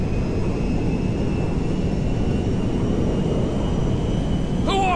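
Airplane flying in GTA 5, a steady loud engine drone and broad rushing roar held throughout, with a brief whooshing burst near the end.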